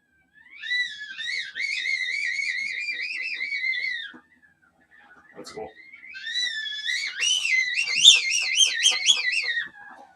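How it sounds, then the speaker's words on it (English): Liquid nitrogen boiling off into gas gives a loud, wavering high whistle that holds for a few seconds, breaks off briefly, then returns stronger and more warbling, with a short spoken remark in the gap. "liquid nitrogen becoming gaseous nitrogen, which expands a whole lot more than the liquid form. And it's creating that whistling sound."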